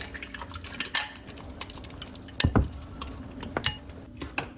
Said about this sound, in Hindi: और यहाँ पे आधा नमक का मैंने चम्मच ले लिया और अच्छी तरह इसको फेंट लेंगे पहले